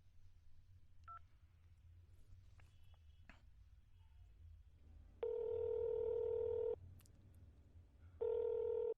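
A telephone number is dialed, with a few quiet key beeps followed by two longer, loud steady tones separated by a short pause, heard close with no talking.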